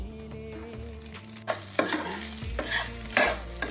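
Prawns sizzle and crackle while being stir-fried in a pan, close and steady, with a few scraping stirs and faint tonal hum in the background.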